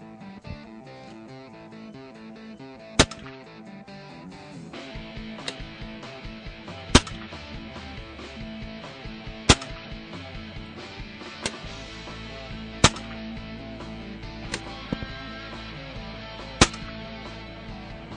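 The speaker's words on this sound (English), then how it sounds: "We're going to shoot a 5-shot group with the Kodiak match pellet." A BSA Lone Star .25 caliber airgun fires a five-shot group of Kodiak match pellets, sharp isolated cracks spaced a few seconds apart over a quiet background hum.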